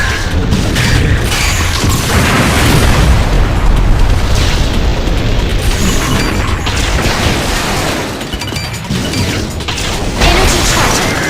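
Enemy missile explosions in the Nintendo DS game Liberation Maiden boom loudly and continuously, with heavy rumbling blasts layered over mechanical game noise and a brief dip near the end.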